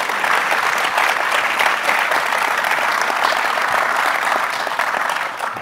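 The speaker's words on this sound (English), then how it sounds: "Let's put another round of applause for Andrew and Cameron." A conference audience at the close of a session applauds steadily, a dense sustained wash of clapping from many hands that holds loud throughout and tapers slightly at the end, with no voices over it.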